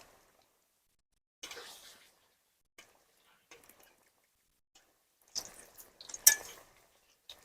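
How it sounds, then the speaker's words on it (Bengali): Pointed gourd pieces are flipped in a frying pan, giving sparse, close clinks and scrapes of a utensil against metal in a few scattered bursts separated by near silence. "এক পিঠ করে হয়ে গেছে, আমি এবারে উল্টে দিচ্ছি অপর পিঠে।"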